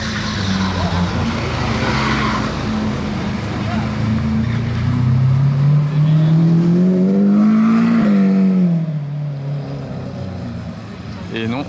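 A Lamborghini Aventador's engine fires up and revs outdoors at a car gathering, a loud rising and falling roar under people talking nearby, with a background rush of street noise.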